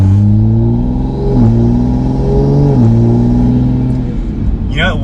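An A90 Toyota Supra with a straight-pipe exhaust accelerates slowly, a loud close droning exhaust note climbing gently in pitch with brief dips at gear changes, with a voice speaking over it near the end.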